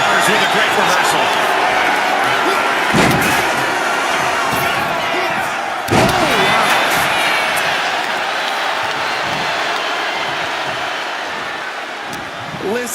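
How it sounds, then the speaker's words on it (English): Loud, dense arena crowd roaring and cheering for a WWE 2K25 wrestling match, a steady wall of noise with sharp swells around the impacts and commentary voices running underneath. "Listen to this crowd."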